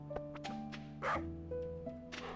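A pet dog in the farming game Stardew Valley gives a few short, quiet barks and yips over a soft musical background, the cartoonish barks spaced about half a second apart.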